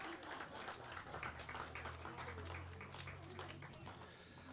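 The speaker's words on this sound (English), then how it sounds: "Oh, yeah, you can applaud." Audience applause at a United Way 2018 kick-off evening event, a steady wash of clapping from a crowd lasting a few seconds, fairly quiet and even, with a low hum underneath.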